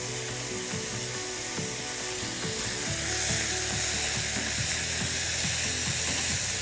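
Ginger tossed into pork belly cubes sizzling in a hot pan, steady bright frying hiss throughout with soft clinks and stirring knocks of a utensil, no talk.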